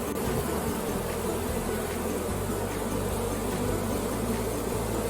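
A honey bee swarm buzzing steadily and close by as the bees march into a hive box, a dense continuous hum with low droning tones shifting underneath.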